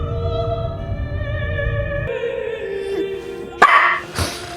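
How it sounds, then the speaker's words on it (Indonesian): A dog barks at night with sharp, close barks heard over a steady background hum, ending in a couple of loud bursts. "Pusing dengan gonggongan asuhnya yang tak tahu waktu, Maria yang terbangun langsung mengeluarkan"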